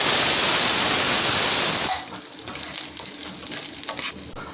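Green chillies and onion frying in hot oil in a pan for sambar: a loud, dense sizzling hiss for about two seconds that drops abruptly to a quieter crackling fry continuing to the end, with no voices.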